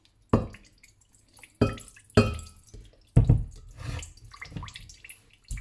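Fresh homemade coconut milk drips and splashes through a small strainer in a handful of distinct wet bursts, close and moderately loud, with quiet gaps between them.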